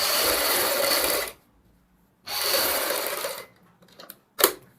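A sewing machine runs steady stitching bursts on a neck design at a boutique, two long whirring runs separated by a pause, then short clicks and a brief final burst, close and alone without talk.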